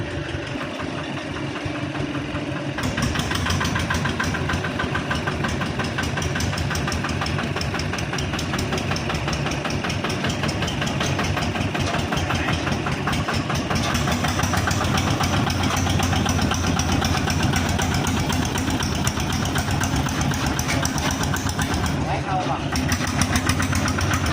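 Diesel engine of an e-taen Thai farm vehicle running steadily at a rough, knocking idle close by, starting a few seconds in and continuing without pause, with no talking over it.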